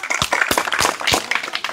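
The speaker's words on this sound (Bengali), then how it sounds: "করতালি।" Audience clapping at a Bengali stage challenge game, a short burst of dense, close handclaps with a few sharper individual claps standing out, filling the moment without voices.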